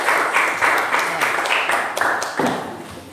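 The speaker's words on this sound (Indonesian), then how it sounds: "Tepuk tangan dulu untuk kelompoknya Dwi." A classroom group receives applause after presenting, a short burst of clapping from many hands with rhythmic unison pulses, fading out after about three seconds.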